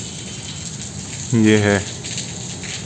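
Heavy rain falling outside a college window on a closed campus: a steady, dense hiss of rainfall runs throughout, while someone briefly speaks over it in the middle.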